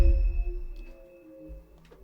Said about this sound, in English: It just transforms it into this tonal, crazy, artifacty sound that sounds really amazing in my opinion.